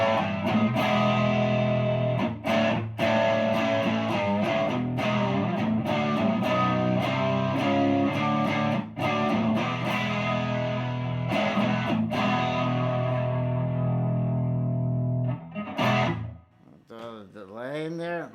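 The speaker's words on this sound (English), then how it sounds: "So now I'm just gonna throw in some reverb" A Harley Benton SC 450 P90 electric guitar plays chords and picked notes drenched in reverb, each strum blooming and lingering; a voice briefly speaks at the end.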